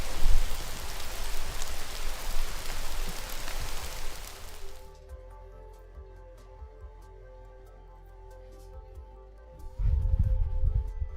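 Steady rain patters and hisses on a surface, loud and dense for the first few seconds, then drops to a faint drizzle with scattered drips before a heavier burst returns near the end.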